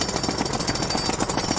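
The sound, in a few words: jackhammer-like drilling machine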